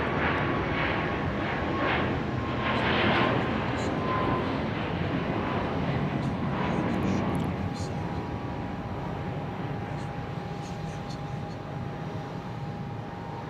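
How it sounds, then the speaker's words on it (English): Southwest airliner taking off at Dallas Love Field, a steady broad engine roar holding loud and even throughout, with some talk over it. "And the plane taking off Southwest 1664."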